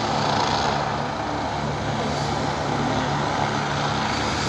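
A helicopter engine and rotor roar steadily and loudly at close range after landing during a railway accident emergency drill, a constant mechanical drone with no voices.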